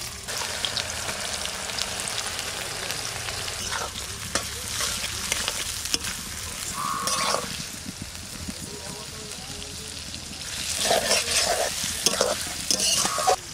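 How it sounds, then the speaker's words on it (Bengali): Onion sizzles in a hot pan and is stirred now and then, a continuous close frying hiss with scraping strokes and a louder burst near the end. "পেঁয়াজটা দিয়ে দিচ্ছি, পেঁয়াজটাকে গলিয়ে নেব।"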